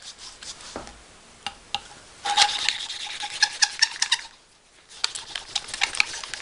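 An engine valve on a Wolseley WD2 being hand-ground against its seat, giving close, repeated gritty rubbing and rasping strokes in uneven bursts with brief pauses between them.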